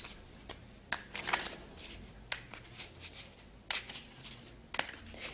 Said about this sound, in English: I'm going to take a few Vera Sibilla cards here to get some clarification.